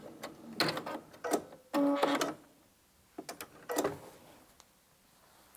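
A sewing machine's multi-directional stitching feature sews a fabric pocket onto a Christmas Advent calendar, in several short bursts of close mechanical stitching separated by quiet pauses.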